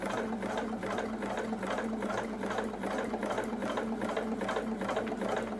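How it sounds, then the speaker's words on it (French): A sewing machine stitches a Japanese patchwork pouch, a fast, steady mechanical chatter of the needle running continuously at close range and moderate volume, with no talking. "Et vous laissez travailler la machine."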